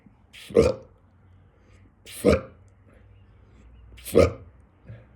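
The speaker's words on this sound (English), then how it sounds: "I was burping at that energy" Three short guttural burps spaced about two seconds apart, close and fairly loud, with a fainter fourth at the end and quiet between.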